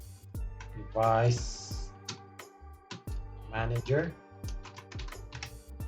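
Computer keyboard typing while searching for Device Manager in Windows: a string of quick, light key clicks, close and moderately loud, broken by two spans of talk.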